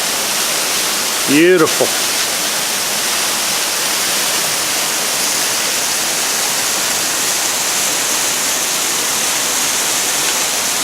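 A waterfall on a canyon creek along the Crispus Trail gives a steady, loud broadband rush throughout, with a brief spoken word near the start.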